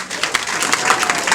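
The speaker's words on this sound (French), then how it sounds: "Sous vos applaudissements" Guests applaud at an official Congolese wedding ceremony, a dense, steady patter of many hands clapping together for the whole moment at an even, moderate loudness.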